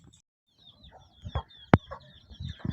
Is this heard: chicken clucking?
yes